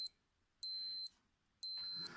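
A Casio W-214H digital wristwatch beeps in two short bursts, each a steady electronic tone lasting about half a second, close and clear with quiet gaps between.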